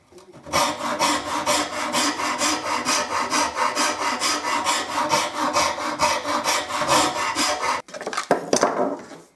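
A Shinto rasp shapes a wooden mandolin neck in fast, even back-and-forth strokes, loud and close, about two per second, before a brief pause and a few irregular scrapes.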